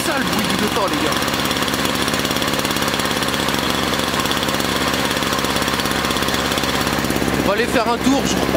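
A Peugeot 103 moped engine idles roughly in a steady, fast-pulsing rattle throughout, loud and close, with a brief rise in pitch near the end as it is revved slightly.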